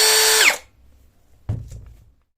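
An MLHY cordless drill fitted with an Ecosen 2-in-1 gearbox runs as a drill driver, a loud steady whine that winds down, then a short thump and brief rattle follows after a pause.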